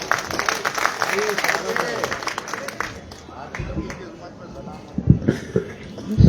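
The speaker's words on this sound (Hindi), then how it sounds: "आपकी जोरदार तालियों के साथ" A crowd at a Basant Panchami poetry gathering in Sironj breaks into dense applause that fades after a few seconds, with a voice then speaking.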